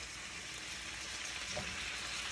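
Food sizzles steadily in a hot pan beside a lit stove burner while herb roasted chicken is dished up, a constant faint hiss and crackle close by.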